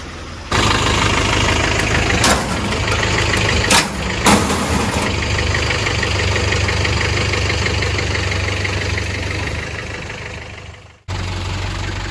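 A Land Rover Discovery engine runs steadily while towing a 1955 Land Rover Series 1 107-inch pickup into a shed, a loud, continuous idling drone with a few brief knocks, then a sudden cut and restart near the end.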